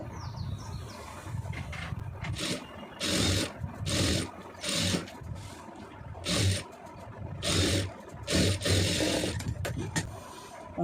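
A sewing machine stitching a boat neckline on fabric runs in several short bursts, each a steady mechanical whir, with quieter pauses of fabric handling between them. The sound is close and fairly loud.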